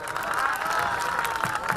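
A crowd at a Gujarati comedy storytelling program bursts into brief, dense applause with some cheering mixed in, loud and close for about two seconds.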